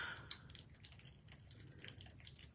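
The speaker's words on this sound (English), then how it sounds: "And we're going just to mix in this water." Water poured in to mix, a faint close trickle with small drips and splashes over a low background hum, quiet and with no talking.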